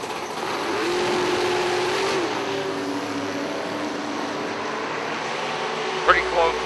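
A 1967 Camaro Roadster drag racing at an IHRA Tournament of Champions event, its engine a steady droning roar held under an announcer's talk, with a brief sharper burst near the end.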